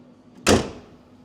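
A 1969 Ford Mustang Mach 1 trunk lid is shut with a single solid, close thud that decays over a fraction of a second, with a faint low hum before and after.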